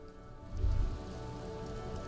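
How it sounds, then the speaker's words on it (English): Rain falls steadily across the rainy city streets of the video game Disco Elysium, a soft, continuous wash of drops and dripping, with a low ambient swell and no voices. "All around you, rain falls on the great city of Rivershaw. Rain drips from the eaves and floods the gutters"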